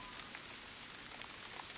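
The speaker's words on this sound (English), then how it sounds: "it's raining" Steady rain falling throughout in the horror video game White Day: A Labyrinth Named School, a constant dense hiss with scattered droplet patters, fairly quiet and uninterrupted.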